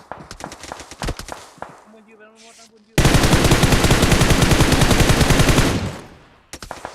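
Rapid video game gunfire, scattered single shots at first and then a sustained, loud automatic burst lasting several seconds before it cuts off, with players talking around it.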